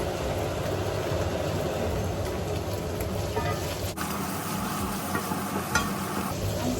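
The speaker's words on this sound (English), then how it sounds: "I'm sorry for the noise of my saucepan." Pork stir-frying in a noisy saucepan gives a steady, close sizzle with scraping and stirring clatter throughout, a few sharp clicks of utensil against metal cutting through the hiss.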